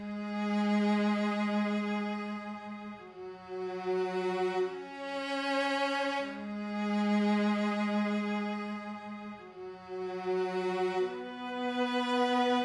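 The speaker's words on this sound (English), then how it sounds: "I had this main low cello that I played first, but then I added in this mid layer of it" Bowed cellos in two layers, low and middle, sustain long notes together, shifting chords slowly in a rich, resonant drone.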